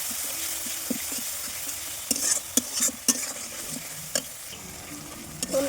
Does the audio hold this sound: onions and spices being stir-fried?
yes